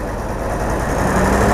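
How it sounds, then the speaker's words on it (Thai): A Mercedes-Benz 2635 tractor truck's V8 engine runs with a dense, low, heavy rumble, loud and close, swelling slightly toward the end. "เนี่ยการทำงาน ของ Mercedes-Benz คันนี้เป็นยังไงนะครับ เครื่อง V8 3 54 cc นะครับว่าเป็นยังไงนะครับ"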